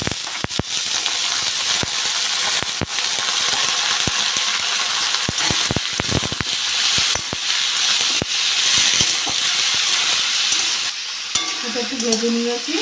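Papaya pieces frying in a pan with fried onion and dried chilli, a loud continuous sizzle close by with frequent clinks and scrapes of a spatula stirring throughout.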